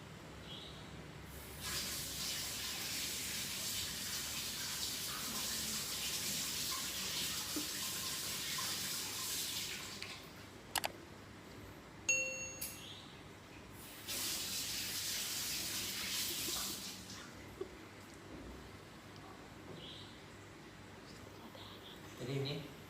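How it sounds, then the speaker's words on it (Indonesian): Iron wire pieces for a kunir putih charm rinsed under running water, with two long bursts of splashing, gushing flow, separated by quieter stretches and a few knocks, mid-distance and steady. "Mas Angga cuci besi dulu bentar."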